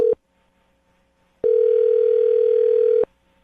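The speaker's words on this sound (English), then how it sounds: "I just dialed the phone number" A telephone ringback tone sounds after a number is dialed on a radio morning-show call: a clear, loud, steady tone cuts off at the start, then a single ring of about one and a half seconds follows a pause.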